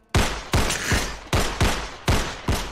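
Rapid gunshots from the video game Go To Bed, six sharp loud blasts in uneven succession, each with a short decaying tail, with no talking.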